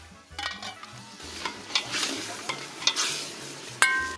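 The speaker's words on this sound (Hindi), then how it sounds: "गोश्त को कुछ खुशबूदार मसालों में तेज आंच पे भूना" Mutton fries with aromatic spices over high heat in a pot, a steady sizzle under repeated stirring scrapes and metallic clinks of a ladle against the vessel.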